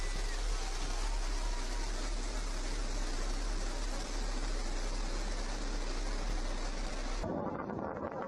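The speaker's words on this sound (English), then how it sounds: "New Shepard has cleared the tower." Blue Origin New Shepard rocket launch, a loud continuous broadband roar with a deep low rumble that cuts off abruptly near the end.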